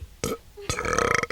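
A woman lets out a burp as part of a burping contest on a comedy radio broadcast: a short croak, a pause, then a longer rattling belch, close and loud.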